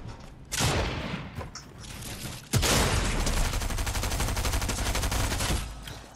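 Fortnite gunfire erupts in two sharp bursts followed by a rapid, sustained string of shots, fairly loud and with almost no talking over it.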